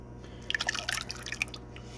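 Sauce poured from a container onto chicken in a crock pot, a short run of close wet splashes and drips over a steady low kitchen hum.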